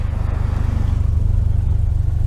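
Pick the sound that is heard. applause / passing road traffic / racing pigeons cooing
passing road traffic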